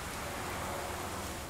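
Rain in Mafia 2 falls as a steady, dense hiss of drops on surfaces, loud and even throughout with no talking.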